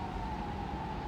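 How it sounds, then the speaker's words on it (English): Emergency vehicle siren sounding on a city street, a steady tonal wail in the distance, brief and continuous. "And there's the sirens."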